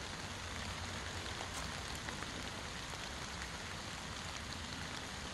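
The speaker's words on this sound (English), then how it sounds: "It's raining out here." Steady rain falling outdoors over a vegetable garden, a dense even hiss of drops on surfaces, close and constant throughout with no voices.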